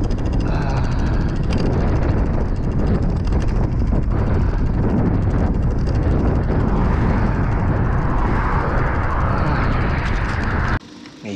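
Strong wind buffets the microphone of a road cyclist riding in near-freezing weather, a loud continuous roaring rumble that fills the whole stretch and cuts off abruptly just before the end.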